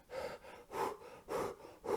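A voice imitates heavy panting after a hard swim, four rhythmic gasping breaths, close and breathy.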